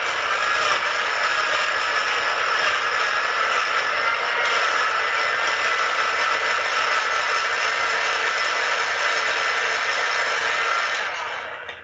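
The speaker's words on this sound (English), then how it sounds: "put the lid nice and tight on my blender, and blend away" A blender crushes ice cubes into an orange juice fruit smoothie. The motor whirs loudly and steadily for about twelve seconds with no voices, then tails off at the very end.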